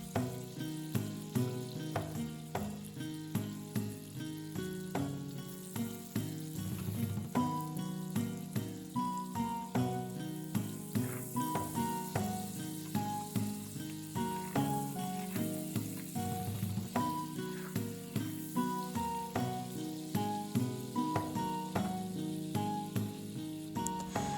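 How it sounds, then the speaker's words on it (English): Butter sizzling and bubbling as it melts in a hot pot over medium heat, a steady crackling fry with light stirring swirls and no voices. "melt and swirl it in the pot to coat it down"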